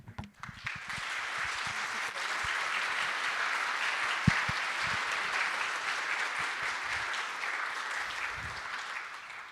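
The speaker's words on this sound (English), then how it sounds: "Did you hear all the clapping?" Clapping from a conference audience after a talk: a few scattered claps at first, then full steady applause that stays even and begins to thin toward the end.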